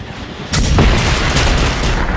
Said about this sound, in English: Throwing grenades at him.